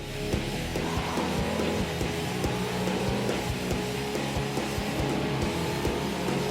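Car power-sliding around a corner in the racing game Jak X: Combat Racing, engine droning steadily with tire squeal through the slide, loud and continuous.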